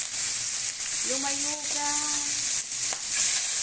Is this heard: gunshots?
no